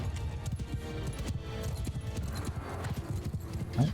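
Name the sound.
horse hooves in the video game Mount & Blade II: Bannerlord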